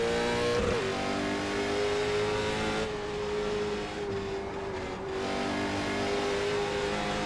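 A Late Model Stock race car engine in the iRacing simulator revs and accelerates after a green-flag restart, a steady loud drone that holds for several seconds with a slight pitch dip midway and no voices.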